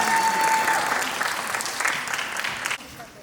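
Audience applause at a dance competition in Tokyo, Japan, a loud burst of clapping from a crowd that holds steady, then drops sharply near the end and tails off.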